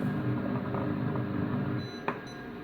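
A Compact Cook Elite food processor runs its mixing cycle on apple and almond cake batter with baking powder, giving a steady, even motor whir with a short beep near the end.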